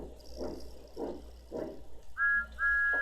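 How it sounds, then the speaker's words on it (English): Steam whistle of Thomas the tank engine, two short bright high toots near the end, after faint rhythmic puffing and a quiet background hum. "Then he heard a whistle."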